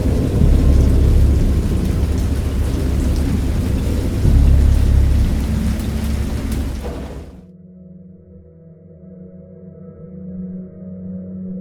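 Heavy rain roars steadily with deep rumbling thunder, then abruptly cuts off to near quiet with a faint low hum.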